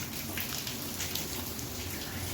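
Steady rain falls through the night, a soft, even patter of drops hissing on surfaces throughout, fairly faint and with no voices over it.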